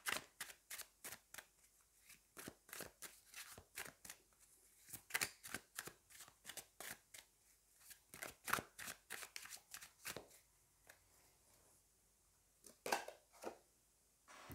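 A deck of tarot cards is shuffled and cards are drawn during a reading, giving a quick series of crisp, close riffling snaps and slaps with short pauses between them, no voices.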